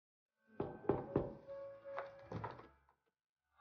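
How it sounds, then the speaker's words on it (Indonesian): Several knocks land on a house door, a quick cluster of three sharp raps followed by a couple of heavier thuds and a short scrape, close and clear against a silent background. "terdengar pintu rumah mereka yang diketuk oleh seseorang"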